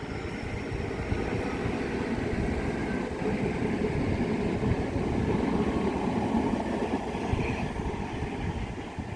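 A Class 465 electric train passes through Grove Park station, producing a steady, loud rumble and rolling roar that holds evenly across the whole stretch, with no speech.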